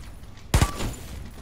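A pump shotgun in the Warface video game fires at a shooting range: a single loud, sharp blast with a quick double crack and short decaying tail against a quiet background.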